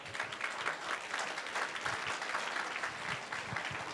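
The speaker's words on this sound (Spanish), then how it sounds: "Por favor, un fuerte aplauso para Álvaro Zúñiga." An audience applauds Álvaro Zúñiga at a talk, with steady, dense clapping from a crowd that stays at an even level throughout.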